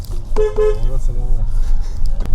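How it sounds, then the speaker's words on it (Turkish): A gendarmerie vehicle's horn honks twice in quick succession, loud and close, followed by a fainter, shorter toot against rumbling road noise. "Jandarma bize korna çaldı."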